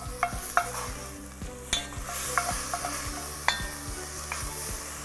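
Meat frying in a pan for şiveydiz, a Gaziantep dish, giving a steady close sizzle under the sharp scrape and clink of a utensil stirring against the pan several times.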